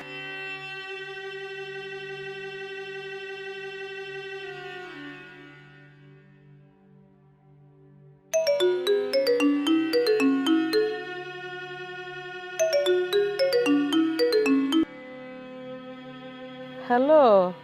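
A mobile phone call ringing: a sustained electronic tone fades out, then bright melodic ringtone phrases play in loud bursts with gaps, close and clear, with no talk over them.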